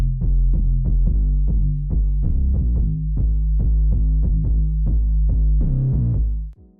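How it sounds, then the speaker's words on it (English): A deep sub bass plays a Jersey Club kick pattern, with punchy low notes pulsing in a bouncy, syncopated rhythm over a sustained low hum, loud and alone for nearly seven seconds until a sudden stop. "I mirrored the Jersey Club kick pattern that I just put in and put that down to a sub bass and it sounded like this"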